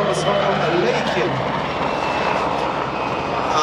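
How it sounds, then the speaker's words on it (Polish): PZL W-3 Sokol helicopter flying an aerobatic maneuver at an air show, a loud continuous engine and rotor roar that holds steady, with an announcer's voice over it. "zobaczycie Państwo, jaki to jest naprawdę dość ciężki śmigłowiec"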